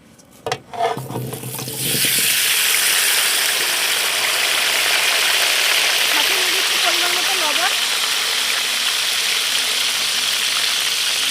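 Cut potatoes hit hot oil after a few clatters, and a loud, steady frying sizzle carries on close by. A voice speaks over it at times.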